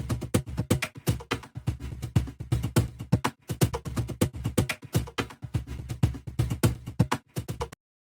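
A cajon is played solo in a brisk, steady pattern of deep bass thumps and sharp slaps, close and dry, stopping abruptly at the end.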